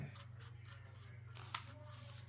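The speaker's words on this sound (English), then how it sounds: "Then I take my little scissors and I start cutting." Small scissors snip through fabric at a sewing table, giving a few soft, quiet cuts over a steady low electrical hum, with one sharper snip near the end.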